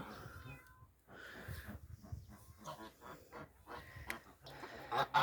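A cat meows several times outdoors near a goose enclosure in a spring garden, with occasional nearby rustling and faint background noise.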